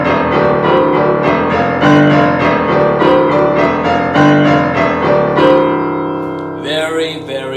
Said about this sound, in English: if the left hand was loud, it would sound like this